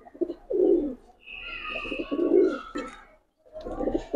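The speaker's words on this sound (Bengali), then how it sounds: "তাহলে দেখছেন দুই পেয়ার কবুতর একসাথে" Bagha Silver Musaldam pigeons coo at close range in deep, throaty rolling phrases. Several bursts come in a row with brief pauses between them, and a thin higher chirp joins in midway.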